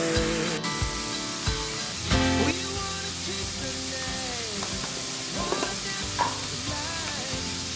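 Food browning in a pan for creamy spinach pasta, a steady close sizzle with scraping stirs and spatula taps rising over it at intervals, no voices.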